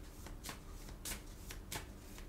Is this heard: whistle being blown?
no